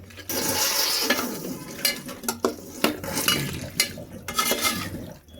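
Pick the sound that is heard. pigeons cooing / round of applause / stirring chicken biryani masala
stirring chicken biryani masala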